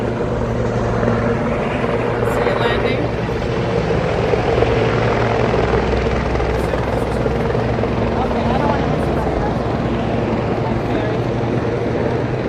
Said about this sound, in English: Yeah, see if we can track that helicopter.